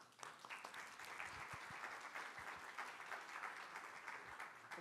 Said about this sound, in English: let's give a big round of applause to Henry and Adriana